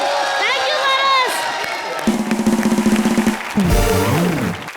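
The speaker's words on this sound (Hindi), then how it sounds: "जोरदार तालियां पारस के लिए।" A comedy show crowd cheers and whoops for a participant amid music and shouting, with a burst of rhythmic beats midway and voices throughout.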